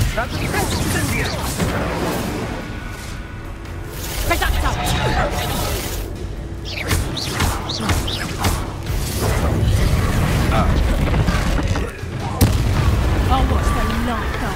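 Spell explosions from Confringo and Bombarda in the video game Hogwarts Legacy: repeated booming blasts and crackling bursts over a busy mechanical rumble, with a voice talking in the mix throughout.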